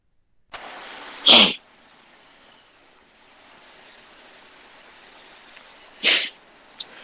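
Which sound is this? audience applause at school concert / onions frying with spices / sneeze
sneeze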